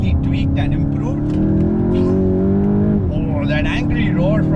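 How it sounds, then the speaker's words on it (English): A 2021 Volkswagen Golf GTI hot hatchback's exhaust holds a steady, droning engine note throughout, with a brief dip near the end, while someone talks over it. "Oh, that angry roar from that exhaust."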